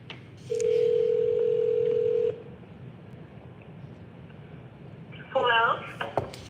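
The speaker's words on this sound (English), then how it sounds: "Let's call the cell phone number." Telephone call on a phone line to a seller's cell phone: a steady dial tone for about two seconds, then quiet line hiss, followed near the end by a quick burst of dialing tones.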